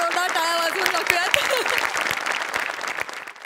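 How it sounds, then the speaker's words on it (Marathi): A studio audience at a Marathi comedy show breaks into loud, sustained applause, with a voice and some tonal sound carrying over the clapping at first before it gradually thins out. "समोर बसलेल्या प्रेक्षकांसाठी पण एकदा जोरदार टाळ्या वाजवून टाकूयात."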